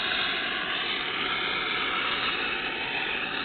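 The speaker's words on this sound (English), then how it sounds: "I take a torch and I go around the inside of the brake drum and burn off all that oil that's in there" Steady roaring hiss of a torch flame burning oil off the inside of a brake drum, continuous and even at a constant level from start to end, with no talking.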